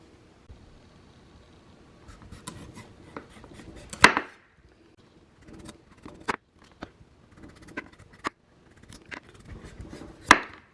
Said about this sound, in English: my peeler happens to be a little bit too dull for this job, so I'm using the knife